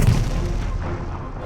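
Warship cannon firing at close range in a naval battle of the War of the Pacific, a single heavy deep boom that rolls off into a fading low rumble.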